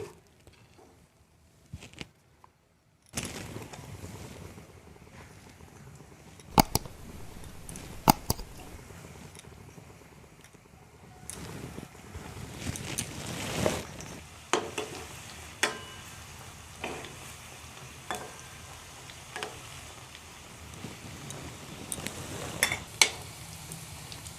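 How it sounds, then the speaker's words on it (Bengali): Potato-stuffed rolls dropped into hot white oil and deep frying, a soft crackling patter and sizzle with scattered clicks from stirring and turning, fairly quiet and steady after an abrupt start. "তেলটা গরম হয়ে গেছে, এখন রোলগুলো তেলের মধ্যে দিচ্ছি।"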